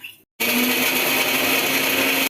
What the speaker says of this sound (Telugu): చల్లారాక మిక్సీ జార్లో వేసుకోవాలి